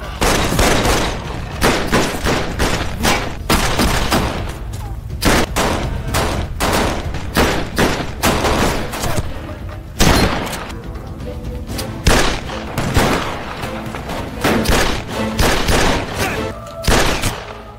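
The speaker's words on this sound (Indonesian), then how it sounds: "seseorang dari kejauhan menembak dia" Gunfire in a movie scene as someone shoots from afar: loud, rapid volleys of shots crack out in repeated bursts, with brief pauses between the barrages.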